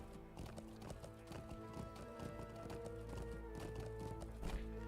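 A war steed's hooves clip-clopping at a steady gallop in the online game Lord of the Rings Online, rhythmic and continuous over game music and ambient tones.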